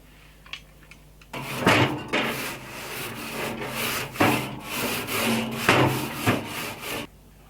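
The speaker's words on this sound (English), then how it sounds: "So I will use an iron brush. I will brush it." An iron brush scrubs a dirty deflector from a Louisiana Grills pellet grill in steady back-and-forth rasping strokes, close and fairly loud, after a quiet start.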